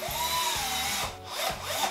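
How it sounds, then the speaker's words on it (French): A power drill bores holes into a pumpkin, its motor whining and dipping in pitch under load in repeated grinding bursts, close and loud. "J'ai envie de prendre une visseuse, une perceuse, et de faire plein de petits trous partout."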